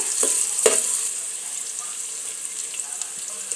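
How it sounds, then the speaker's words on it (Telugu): Onions and green chilies frying in a pan for vegetable biryani, a steady close hiss of sizzling oil with a couple of sharp clinks of a utensil early on. "ఆనియన్స్, పచ్చిమిరపకాయలు, అలాగే ఉల్లిపాయలు వేసుకొని వేపుకోవాలి."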